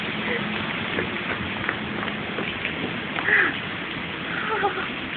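Hail pelts down in a steady, dense clatter throughout a hailstorm outdoors, with faint voices beneath the continuous hiss of impacts.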